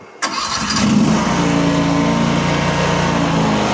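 An Arteer QB-480 mini skid steer with a lever throttle cranks and catches, then settles into a loud, steady close-up engine idle with no talking.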